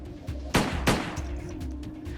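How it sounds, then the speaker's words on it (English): A Glock 26 subcompact 9mm pistol fired in a controlled pair, two sharp, close, loud cracks about a third of a second apart, each followed by a brief ring-out, then quieter faint pops and background noise. "Right now, he's firing tight groups known as controlled pairs."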